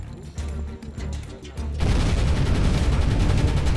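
Guns fire from a WWII Kriegsmarine U-boat in a naval video game. A low mechanical rumble carries rapid repeated shots, then a dense, loud barrage of continuous fire takes over for the rest.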